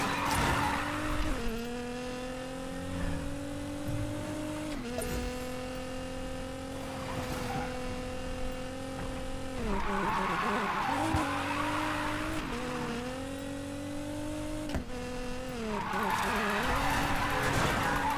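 A car drifts on a hillside road in Need for Speed Payback, its engine droning and rising through gear changes while the tires squeal in repeated long skids, loud and close, with someone talking over it.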